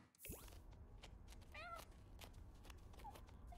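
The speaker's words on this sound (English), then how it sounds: "What is going on with the cat?" Cat meowing in The Sims 4, a short rising and falling call around the middle, moderately loud over a steady game background with no talk.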